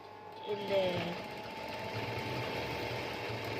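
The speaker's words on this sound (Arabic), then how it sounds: "الدواسه نخيط على الحرف خالص زي كده" Sewing machine running steadily as it stitches right along the edge of a bedsheet, a continuous close mechanical whir that follows a brief voice at the start.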